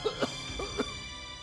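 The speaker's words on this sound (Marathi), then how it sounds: "तुम्ही खोकताय ना सतत," A man coughs about four times in short, quick, close bursts, followed by a quiet room tone.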